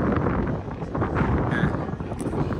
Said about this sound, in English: It's quite windy again